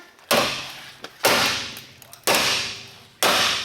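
Four heavy, evenly spaced hammer blows ring out loud and close, each a sharp strike followed by a long, resonant decay.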